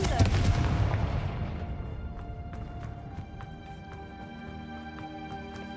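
A Confringo spell explosion in Hogwarts Legacy sets off a heavy booming blast that decays into a ringing tail, with lighter crackling pops scattered after it.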